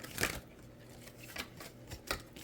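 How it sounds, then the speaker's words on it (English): Oracle cards being shuffled by hand at a tarot-style reading, with soft papery riffles and rustles that come in several short bursts. The sound is quiet and close, and no one speaks. "These cards are so hard to shuffle."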